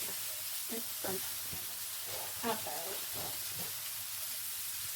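Frozen General Tao chicken browns in a pan with a steady broadband sizzle, close and continuous, while a few soft knocks and stirring sounds mark it being turned.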